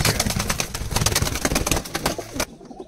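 Giribaz pigeons in a village loft coo in a dense, continuous chorus of throaty, rolling calls, loud and close, cutting off abruptly at the end.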